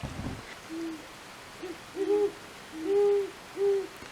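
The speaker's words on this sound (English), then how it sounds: "Can you hear what the great horned owl says?" A great horned owl hoots a series of low, soft, tonal calls in a calm, quiet outdoor setting, spaced unevenly with short pauses between.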